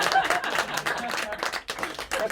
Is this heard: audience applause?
yes